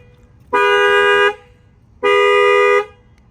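A car alarm horn blares twice, two loud sustained honks under a second each, separated by a short pause.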